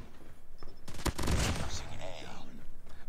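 Fennec submachine gun fire in the mobile game COD Mobile comes as a sharp, fast burst in the middle, with a voice talking around it and quieter game noise before and after.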